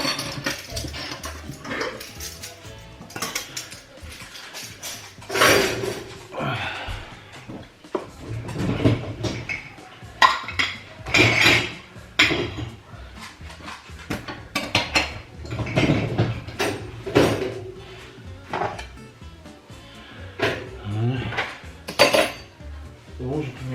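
Dishes and cutlery clatter as they are put away in a home kitchen, with irregular bursts of clinking metal and knocking crockery close by, separated by short quieter pauses.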